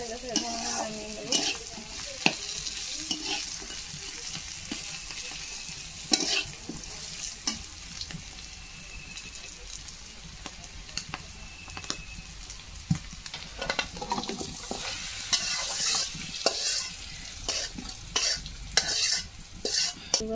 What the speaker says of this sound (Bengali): কাঠকলটা ভাজা হয়ে গেছে, পেঁয়াজটা ভাজা হয়ে গেছে